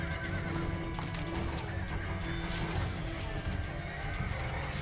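Horses neigh and hooves clatter amid battle noise from horse archers in the strategy game Stronghold Crusader, a steady busy mix with whinnies under the general din.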